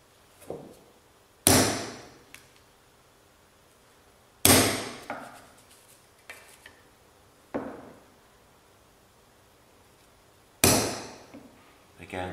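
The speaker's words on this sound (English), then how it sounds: "I'm going to punch all four of those points." A centre punch is struck with a hammer onto marked points on thin aluminium sheet, giving four sharp, separate metallic taps spaced a few seconds apart, with quieter ringing and small handling noises in between.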